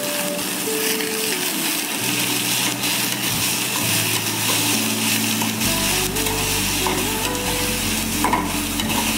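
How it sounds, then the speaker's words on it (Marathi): Ridge gourd (dodka) sautéing in a pan, a continuous sizzle with scraping stirs over a steady low hum from a nearby appliance, and no one speaking. "आता दोडका टाकून घेते, त्याला पण चांगलं परतून घेते 1-2 मिनिट."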